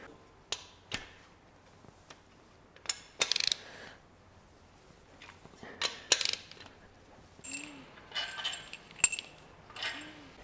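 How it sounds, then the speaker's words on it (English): Metal tools clicking and ratcheting on a BMW N43 engine as bolts are loosened, sparse sharp clinks and short mechanical bursts separated by quiet gaps, close up with no talking. "Now I have to loosen all the bolts and remove the thing."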